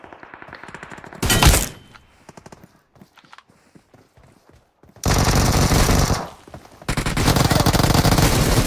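Bursts of automatic gunfire in the mobile battle royale game BGMI, a short loud volley followed by sparse scattered shots, then two long sustained streams of rapid fire close and loud.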